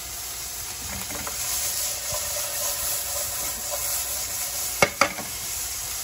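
Onions sweat in olive oil in a pan for ratatouille, giving a steady, soft hiss and sizzle throughout, with two sharp clicks near the end.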